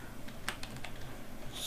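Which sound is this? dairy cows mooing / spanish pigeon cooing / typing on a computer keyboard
typing on a computer keyboard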